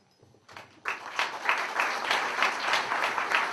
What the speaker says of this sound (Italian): Volevo applaudire con convinzione.